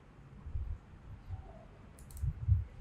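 A computer mouse gives a few quiet, soft clicks, widely spaced against faint low background noise.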